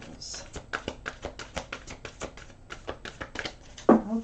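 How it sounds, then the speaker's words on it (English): Tarot cards being shuffled by hand, a quick run of crisp, riffling snaps and taps at close range, ending in a louder thump as the deck settles. "One more shuffle for Scorpios."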